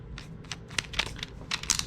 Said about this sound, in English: we are going to put our bit into our drill